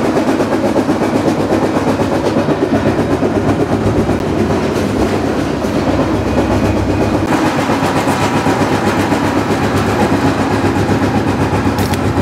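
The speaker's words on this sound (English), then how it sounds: "Train's approaching Meridian, Mississippi" A freight train rolls along the rails near Meridian, Mississippi, a loud, close, continuous rumble with rhythmic clickety-clack from the wheels throughout and no talking.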